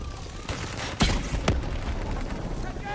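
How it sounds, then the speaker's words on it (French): Tanks shot and exploding in the video game Black Ops 3, two sharp loud blasts half a second apart amid ongoing rumbling combat noise. "Tire sur ces cuves."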